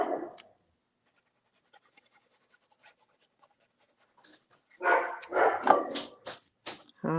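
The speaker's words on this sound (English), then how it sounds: "I hope that dog is not bothering you." A dog barks several times in a quick burst near the end, moderately loud and close, following a soft scratching sound and a long stretch of near silence.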